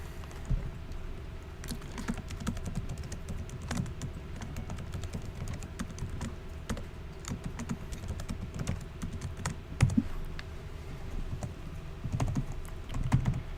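Steady typing on a computer keyboard while setting a system password on an ESXi host, a continuous patter of quick clicky keystrokes with a few louder taps, close and moderately quiet.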